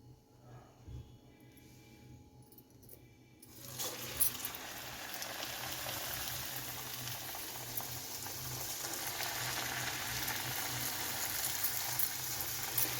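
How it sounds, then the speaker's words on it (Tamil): Samosas deep-frying in hot oil, the quiet start giving way at about four seconds to a steady, loud bubbling sizzle that continues to the end without talk. "இப்போ இந்த சமோசாவை நம்ம பொரித்து எடுத்துருவோம்."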